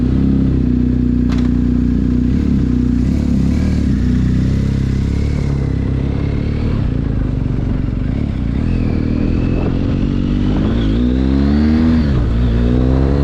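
A motorcycle on a test run after a GPS tracker install, its engine droning loud and close throughout, with the pitch rising and falling as the throttle is worked.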